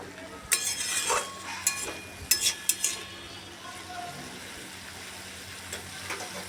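Onion flower curry with mustard paste bubbling in a pan while being stirred, with a few sharp metallic clinks and scrapes of a utensil early on over a low steady simmer, close by.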